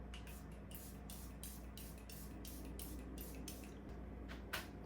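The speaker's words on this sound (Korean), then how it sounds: "자 이제 여기서 이 포인트에서 한 번 더 스프레이를 해줄 거예요" Makeup setting spray is misted onto a face in a row of quick, even spritzes, a soft, close hiss repeated about ten times over steady quiet room noise.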